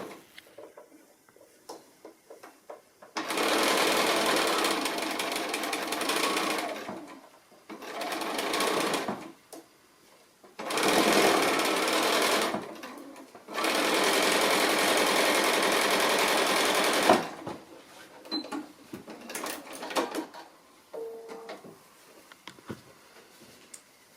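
A sewing machine stitches the seam joining two halves of a traveling pin cushion, running in several bursts of rapid close mechanical whirring separated by quiet pauses and small handling clicks.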